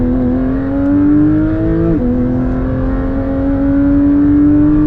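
A Porsche 992 GT3 engine pulls hard while driving on the road, a loud, steady in-cabin drone that rises in pitch, drops briefly at a gear change, then climbs again.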